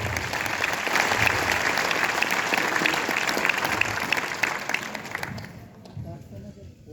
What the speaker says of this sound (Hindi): एक बार मेरी दोनों ग्रेट अपलाइन के लिए जोरदार ताली